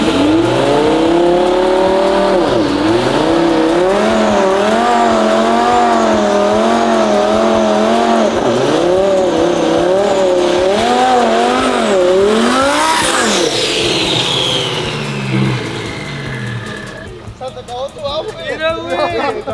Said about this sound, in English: That way we could do a burnout for whenever we take it to the track